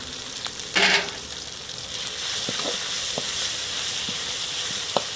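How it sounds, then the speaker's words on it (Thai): Crushed chili and garlic fry in leftover oil from frying eggs, making a steady bright sizzle with a burst as they drop into the pan. A few stirring clicks and taps follow. "ใส่พริกกับกระเทียมที่ตำแล้วลงไปเลยค่ะ"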